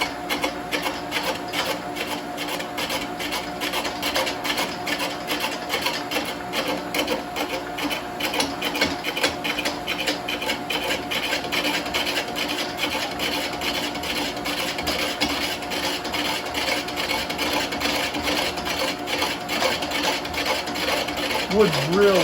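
Dry, hard, out-of-balance wood spinning slowly on a Shopsmith lathe fitted with a speed reducer, giving a steady loud mechanical drone with a rhythmic rubbing, scraping texture throughout.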